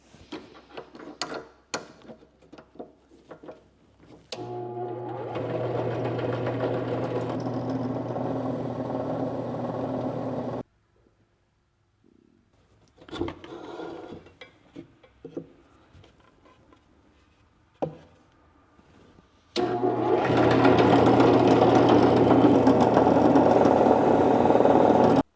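A power drill spins a bit into wood on a workbench in two sustained bursts, loud whirring runs separated by quiet handling clicks and knocks.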